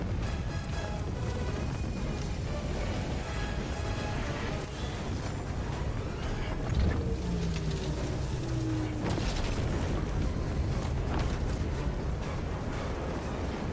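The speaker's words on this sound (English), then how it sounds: "Pelican 1 landing sequence initiated." In Helldivers 2, a Pelican dropship comes in to land amid battle, a dense, loud roar of engines and rumbling explosions that runs unbroken, with a descending whine midway as the craft settles.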